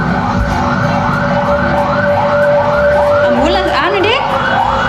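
Ambulance siren wailing in rising and falling sweeps on a street, loud and continuous, with a second fast-warbling siren from a fire truck joining near the end amid traffic rumble.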